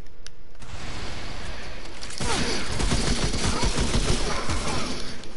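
Dense gunfire in the video game Remnant: From the Ashes, a steady fusillade of rapid shots that swells louder midway and keeps rattling to the end, with no talk over it.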